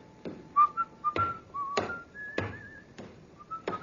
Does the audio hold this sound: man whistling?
yes